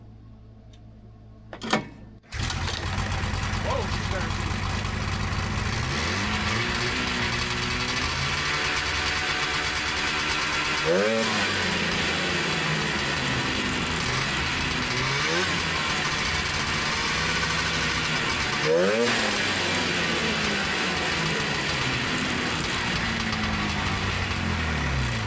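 A 1977 Yamaha TX340 grass drag snowmobile engine starts with a sharp crank and then runs loud and close, revving up and down in repeated sweeps during a clutch engagement check.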